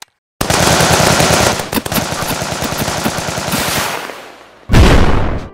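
A rifle fires in rapid automatic bursts at an airsoft game event, loud close rattling shots in a dense string, a brief pause, then another burst.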